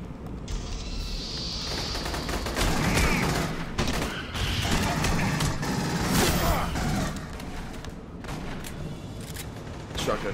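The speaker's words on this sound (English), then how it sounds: "there's a shotgun shooting that asshole" Shotgun fire and combat noise in the video game Aliens: Colonial Marines, a dense run of blasts and clanks at moderate loudness with a muffled, busy backdrop and no clear speech.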